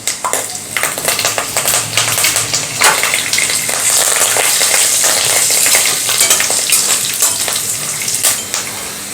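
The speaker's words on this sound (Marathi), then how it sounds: "शेंगदाणे कच्चे आहेत त्यामुळे सुरुवातीला तेलामध्ये थोडेसे तळून घ्यायचे" Raw peanuts and curry leaves frying in hot oil in a pan, a loud, steady crackling sizzle close up with spattering pops throughout, no voices.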